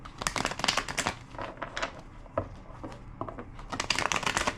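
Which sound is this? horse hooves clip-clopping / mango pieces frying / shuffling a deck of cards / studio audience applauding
shuffling a deck of cards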